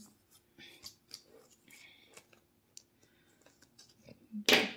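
A pen clicks several times in a quiet room, with small tapping and handling sounds, before it is set down with a sharper knock at the end.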